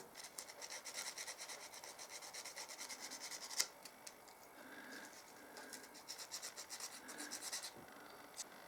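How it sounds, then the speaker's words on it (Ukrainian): A handmade perch spoon lure is worked with a file and sandpaper, giving quiet, rapid, rhythmic rasping strokes with a few sharper scrapes, close up with no talk. "над фільочком і наждачкою обробимо трошечки ще полірнем"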